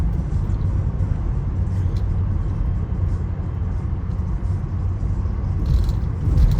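A Tesla car rolls along under full self-driving beta, heard from inside the cabin as a steady low road rumble and soft tire noise with no distinct engine note.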